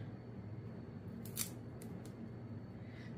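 Dry, papery skin is peeled off a halved purple onion in a home kitchen, producing a few quick crinkly rustles close by against a quiet background.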